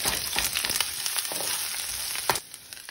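Onion and half a jalapeno fry in a tablespoon of oil until half caramelized, a steady close sizzle with scattered pops and stirring scrapes, easing off near the end.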